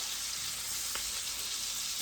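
Potatoes and sausage fry in a pan with a steady, close sizzle that stays even throughout, and no voices are heard.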